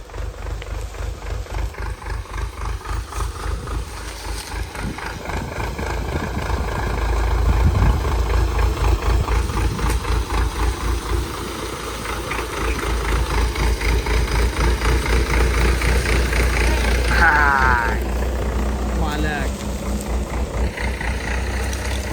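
A heavy sugarcane transport vehicle's engine at a cane harvesting field, idling with a low throbbing rumble that swells as it pulls away and drives, steady and close throughout.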